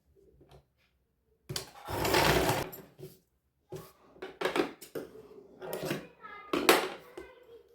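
A sewing machine runs a pressed seam through fabric on a young girl's sharara outfit, in several short close bursts of stitching separated by pauses, with quieter handling sounds between them.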